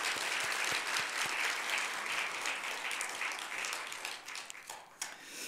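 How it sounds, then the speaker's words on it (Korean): Applause from a church congregation during a deacons' dedication worship service, a steady wash of many hands clapping that holds for several seconds and then thins out toward the end. "다시 한번 박수"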